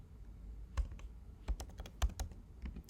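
Computer keyboard typing in short irregular bursts of clicky keystrokes, close and fairly quiet, with no voices.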